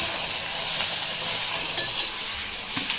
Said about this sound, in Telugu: పోపు వేసుకున్నాం కదా, ఇప్పుడు తురిమి వేసేస్తున్నా. మంచి కొంచెం ఫ్రై కావాలి.